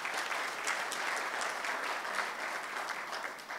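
At the launch of an Airtel Money card and sticker, the audience claps in a fairly quiet, continuous patter with no talking over it.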